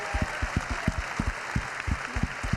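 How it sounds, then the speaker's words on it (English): Audience clapping at a rugby club presentation as a player receives a jersey, a short burst of scattered, fairly close hand claps that keeps a steady rhythm throughout. "Round of applause for Amy."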